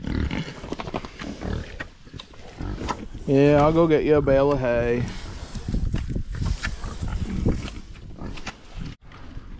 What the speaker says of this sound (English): You lazy pigs. Get up, let's go.